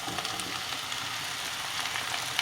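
Onions frying over medium heat in a pan, a faint, even sizzle that runs steadily throughout with no voices.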